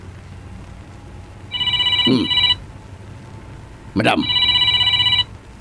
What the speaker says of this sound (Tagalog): Aguray ka, agriring ti cellphone ko.